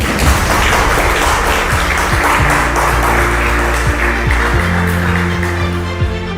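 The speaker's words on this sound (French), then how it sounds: "Mesdames et messieurs, merci d'applaudir et accueillir le membre du jury." Audience applause welcoming jury members at a dance event: a full burst of clapping from a crowd, loud and sustained, with faint music or tonal sounds underneath.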